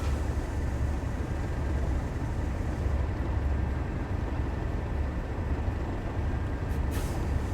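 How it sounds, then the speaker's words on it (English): Southeastern Class 375 electric train braking on the Midland Main Line in Train Sim World, a steady low rumble with continuous hiss of brakes and running noise, fairly loud throughout with no talking. "Get a little bit harder on the brakes here."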